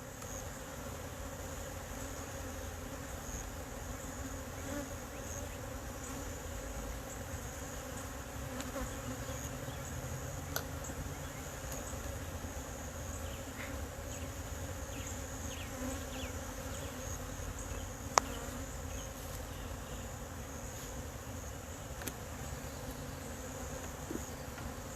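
Honey bees buzz steadily around an open hive during an inspection, a continuous close droning with a few faint clicks and taps from handling.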